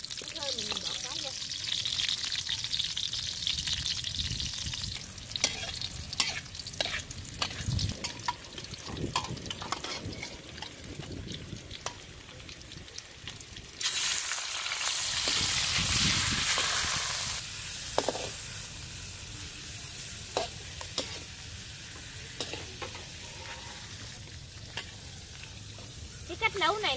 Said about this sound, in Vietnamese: Sẽ bỏ vô đây ít hành, tí phi, phi lên cho nó vàng